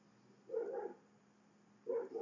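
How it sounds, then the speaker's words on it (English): Two short bursts of dog barking, faint and somewhat distant, separated by a brief quiet gap. "Pardon my dogs."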